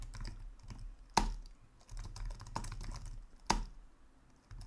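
Soft, steady keystrokes on a computer keyboard come at an irregular pace with a few sharper clacks, close and quiet, without any voice.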